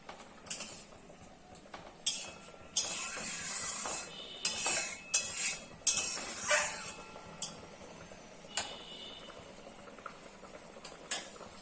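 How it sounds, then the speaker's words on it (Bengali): Spatula scraping and stirring katla fish curry with mustard powder in a pan, a series of irregular scrapes and clinks with sizzling between, close and fairly loud, no talk. "এবং আবারও সব কিছুকে ভালো করে মিশিয়ে নিচ্ছি।"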